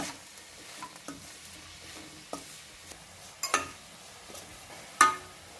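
Vallarai (brahmi) greens sautéing in a pan with salt over low flame, giving a faint, soft sizzle with scattered scrapes and clinks of a spoon stirring against the metal, a few sharper taps standing out.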